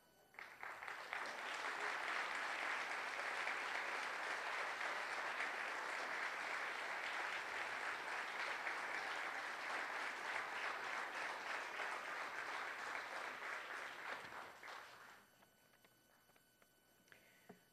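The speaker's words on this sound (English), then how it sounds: "the faculty that have come here tonight deserve your applause also" Sustained applause fills an auditorium at a nursing pinning ceremony, a dense even clatter of many hands lasting about fourteen seconds before stopping abruptly into near quiet.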